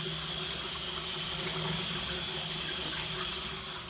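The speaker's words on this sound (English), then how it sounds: "All right, wet my face." Water runs steadily from a tap into a bathroom sink and splashes as a man wets his face before a shave, a close, even rush that fades slightly at the end.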